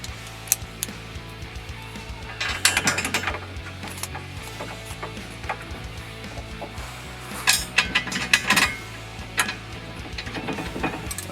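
A ratchet wrench starts bolts on a quick-disconnect seat system for a KRX 1000 side-by-side. It gives irregular bursts of clicking ratchet ticks and metallic clinks over a low steady hum, close by.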